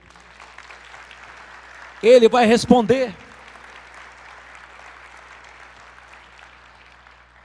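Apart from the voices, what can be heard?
congregation applause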